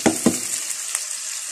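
Half-cooked potatoes dropped into a hot pan with tomato paste and ginger-garlic, giving a steady bright sizzle with two soft thuds at the start as pieces land, then continuous close frying hiss.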